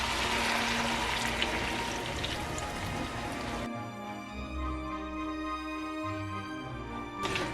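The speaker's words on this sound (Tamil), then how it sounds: "இதில் வந்து நான் 1/3 கப் தண்ணி விட போகிறேன்." A third of a cup of water pours steadily into a pan of chicken curry, a gushing splash that shifts midway into a softer, bubbling trickle, close by with no talking.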